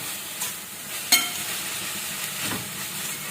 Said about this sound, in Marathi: तर इथे आपण कांदा छान परतून घेणार आहोत